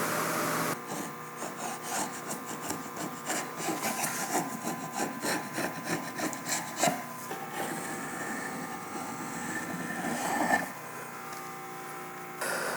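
Guitar-body wood boards running through a thickness planer, a sustained loud grinding roar with rapid rough cutting texture that holds steady, then briefly surges and drops before resuming, with no talk.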